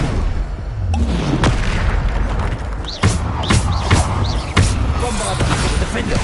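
Explosions from the Bombarda spell in a PS5 video game go off as a rapid string of sharp booming impacts over a steady hum of battle noise, with a voice talking underneath.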